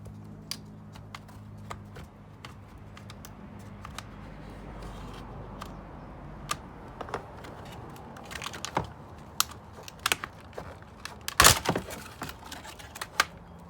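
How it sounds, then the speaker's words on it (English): A razor blade cuts open stiff plastic packaging, producing a series of sharp, irregular clicks, snaps and crackles up close, growing busier and louder toward the end, with no one speaking. "I always usually use a razor blade that's extremely sharp to open these packages"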